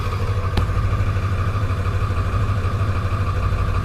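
Ford 7.3 Powerstroke diesel engine idling just after start-up, a steady, loud, low rumbling drone with an even clattery pulse and a brief click near the start.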